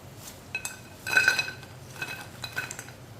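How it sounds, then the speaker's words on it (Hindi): Freshly fried namak pare are tipped into a metal strainer and onto a plate, giving a few light clinks and rattles of utensils against metal, fairly quiet and scattered. "छन्नी में डालेंगे, जो एक्स्ट्रा है वो निकल जाएगा। इसे प्लेट में डालेंगे।"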